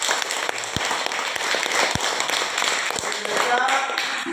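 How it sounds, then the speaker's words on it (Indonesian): A primary school class claps for group three during a coding lesson, a brief burst of scattered hand claps with voices talking alongside. "Tepuk tangan untuk kelompok tiga"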